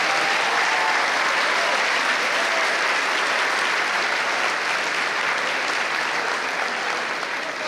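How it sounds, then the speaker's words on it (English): Sustained audience applause at a school assembly honoring students, a broad, steady wash of clapping with no talk over it. "let's give our students in Keys today a big round of applause"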